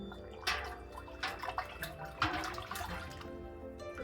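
Hot liquid is poured into a thick paste for chanko nabe and stirred, giving sloshing pours and wet scraping and stirring sounds with a few louder splashes, close and moderately loud.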